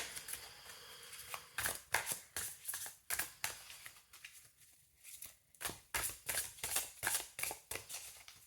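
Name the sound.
shuffling a tarot card deck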